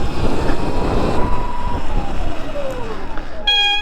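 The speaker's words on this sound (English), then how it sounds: "there was a bit of a squeak, which is showing that the pads are slightly wearing down" Brakes on a Surron electric motorbike with slightly worn pads give a thin squeal that slides downward in pitch as the bike rolls to a stop over a rough rumbling noise, then a brief bright tone.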